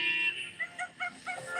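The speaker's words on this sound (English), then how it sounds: "Barnacle geese arrive in their thousands." Barnacle geese arriving in their thousands at Arctic breeding grounds, honking: a steady flock chorus with several clear, nasal honks rising above it in quick succession, fairly close.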